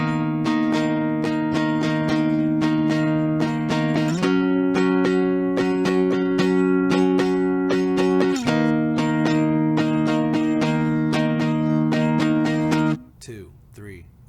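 Acoustic guitar plays a full section of a song, steady strummed chords ringing close and clear with a couple of chord changes, then stopping near the end with brief quieter sound.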